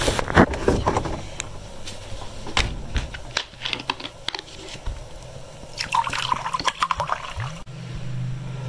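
Drinking water poured indoors in an air-conditioned rented house, a close, splashy trickle with scattered clicks and knocks, with no talking.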